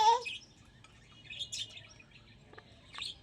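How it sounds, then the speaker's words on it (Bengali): A bird gives a few short, high chirps at scattered moments in a quiet home, with faint background sound between them. "পাখি আসছে না, পাখিকে ডাকছে"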